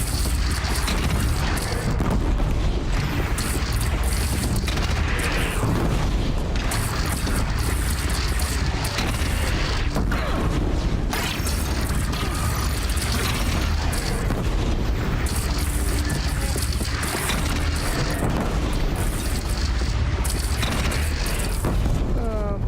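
A bridge shot down and collapsing in the video game Horizon Zero Dawn: a sustained, loud barrage of deep booms, bursts and crashing debris rolling on for over twenty seconds, with faint voices mixed in.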